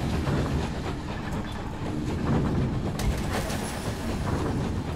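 A video-game train in Night In The Woods rolls along steadily with a continuous rumble and faint rhythmic clatter, occasional high metallic squeaks above it, no voices.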